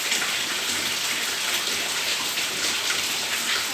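Heavy rain pours steadily in Maceió, a dense continuous hiss of drops hitting surfaces close by, with no voices over it.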